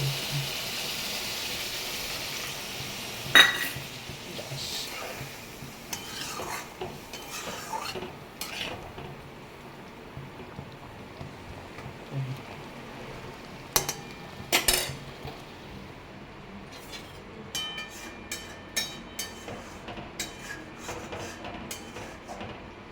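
Fried pointed gourd being stir-fried in a pan, with scattered metallic scrapes and clinks of a spatula against the pan over a faint, steady sizzle, sometimes in quick bursts, with no talking.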